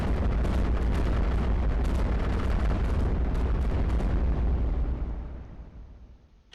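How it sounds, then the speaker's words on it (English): Cannons pound tanks in the tower-defense video game iBomber Defense, a dense barrage of loud booming explosions and artillery blasts rolling continuously before fading out. "Those 2 level 2 cannons on the center plateau are working hard to kill those tanks."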